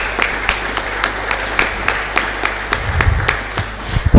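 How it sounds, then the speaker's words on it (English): Scattered applause from an audience at a college of engineering freshmen orientation, with sparse, evenly spaced claps of moderate loudness heard throughout and a low hum of room noise underneath. "Let us welcome him with a round of applause."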